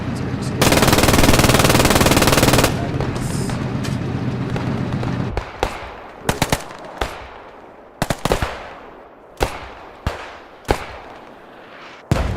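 Machine gun fire in the WWII shooter Squad 44: a long continuous roaring burst, then a series of separate sharp reports and short bursts echoing at intervals, with faint voices underneath.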